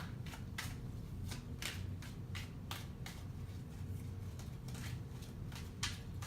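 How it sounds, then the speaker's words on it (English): Tarot cards are shuffled in quick, papery riffles and soft flicks, repeated irregular bursts over a low background hum, close but quiet, with no voices. "you gotta shuffle until the cards feel right"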